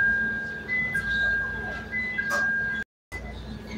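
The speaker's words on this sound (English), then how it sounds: "Doors closing." A CTA Red Line train in Chicago sounds its door-closing chime: a clear electronic tone pattern plays repeatedly over steady train rumble, followed by a brief silent dropout.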